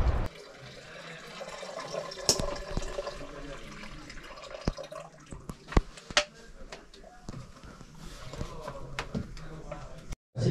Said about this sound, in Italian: Super cascate.